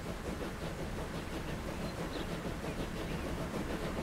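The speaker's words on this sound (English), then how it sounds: "That train just ran through the tram." A video game train rumbles steadily along the rails with a continuous, dense roar and faint rhythmic clatter, close and fairly loud, no talking.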